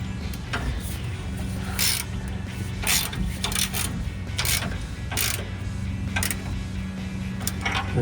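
Bolts are loosened with a ratchet during a rear lift block install on a 2005-2023 Toyota Tacoma, giving irregular sharp clicking bursts over a steady background rumble.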